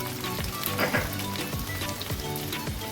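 Onion and tomato sizzle in a hot kadai, a steady close crackle with soft stirring scrapes and no talk.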